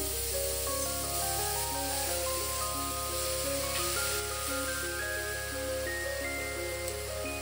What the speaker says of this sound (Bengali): এবারে দিয়ে দিচ্ছি গ্রেট করে রাখা গাজর।